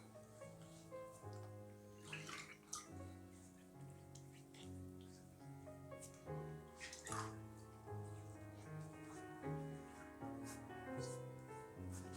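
Tap water runs while a razor is rinsed after shaving, a soft irregular splashing and patter heard faintly beneath steady background music.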